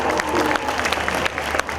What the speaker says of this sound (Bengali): সবাই মিলে একটা করতালি হয়ে যাক।